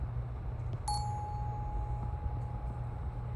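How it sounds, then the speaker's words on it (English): A single memorial chime is struck once at a high school flag-raising ceremony, a clear bright ding that rings on and slowly fades over a quiet outdoor hum. "We ask that Jay Young ring this chime"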